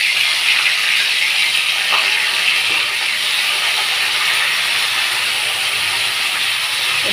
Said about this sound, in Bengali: এবার এর মধ্যে আমি ফুলকপিগুলো প্রথমে ভেজে তুলে নেব।